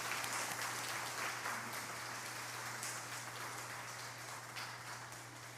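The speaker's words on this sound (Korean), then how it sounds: "자리에서 일어나면 우리가 박수로 축하하도록 하겠습니다" A church congregation at a Sunday service applauds a bride and groom with even, continuous clapping that sounds somewhat distant and soft over a low electrical hum.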